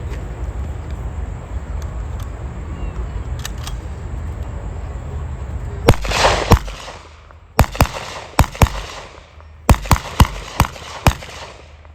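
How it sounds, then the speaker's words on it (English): An M1 rifle fired at an outdoor Army infantry weapons demonstration: quiet ambience, then about a dozen sharp, loud reports in quick clusters, each with a short echoing tail. "Corporal Santiago, would you load the weapon and fire?"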